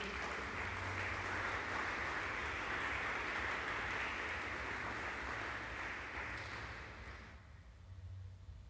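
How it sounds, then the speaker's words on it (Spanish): A church congregation applauds during a sermon: steady, dense clapping that holds for several seconds, then thins and fades near the end. "Le podemos dar un aplauso a ese Dios maravilloso."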